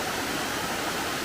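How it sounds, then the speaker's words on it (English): Long Creek Falls in South Carolina pours in a steady, full rush of falling water, close and continuous with no other sounds. "That's a beautiful view and a beautiful waterfall right here"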